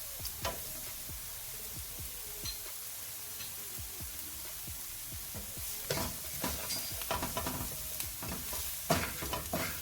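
Salted spinach is being mixed in a pot, giving repeated scraping and rustling strokes with soft wet crunches. They come in an irregular rhythm, grow louder and busier in the second half, and there is no talk.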